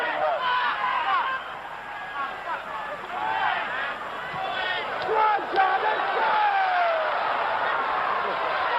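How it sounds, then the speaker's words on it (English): A stadium crowd at a 1976 Bicentennial Cup soccer match between Team America and England keeps up a steady, fairly loud roar of cheering and shouting, with a commentator talking throughout. "The crowd enjoying this now."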